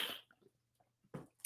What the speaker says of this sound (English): Excuse me, I need to drink some water.